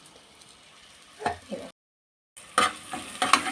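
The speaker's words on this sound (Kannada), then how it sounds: "ಈಗ ಇದನ್ನ ಎಣ್ಣೆ ಒಳಗಡೆ ಹಾಕಿ ಸ್ವಲ್ಪ ಎಲ್ಲ ಬಿಗಿ ಆಗಬೇಕು" Mutton keema balls drop into hot oil with a soft sizzle and a few stirring scrapes of a spoon in a pan, broken by a short gap before the frying resumes louder.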